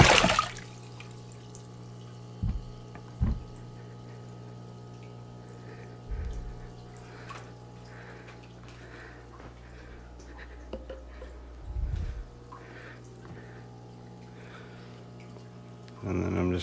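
A caught catfish is lowered into water for release: gentle sloshing and several short splashes spaced over the stretch, close and fairly quiet, with a final splash at the end.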